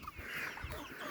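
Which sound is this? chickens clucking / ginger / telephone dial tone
chickens clucking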